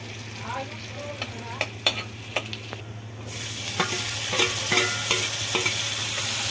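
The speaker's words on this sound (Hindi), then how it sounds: "मक्खन हमारा गर्म हो गया था तो इसमें हमने डाल दिया लहसुन। थोड़ा लहसुन को हल्का सा भूनने देंगे।" Garlic frying in hot butter in a pan, a soft steady sizzle with scattered light clicks and scrapes of stirring, fairly quiet and close, with no talk.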